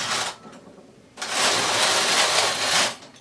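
A standard gauge punch card knitting machine carriage slides across a row of yarn in a knit weave pattern: a short swish, a pause, then a longer steady mechanical whoosh that fades out.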